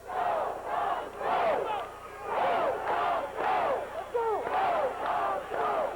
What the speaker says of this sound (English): And the crowd is going wild.